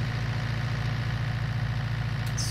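A tractor engine idles steadily at close range, a constant low rumbling drone with an even pulse and no voices.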